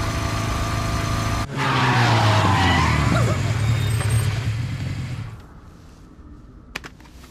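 A motorcycle in the video game Persona 3 roars to life abruptly with a loud engine burst and screeching whine, holding strong for a few seconds before fading out, followed by a couple of faint clicks.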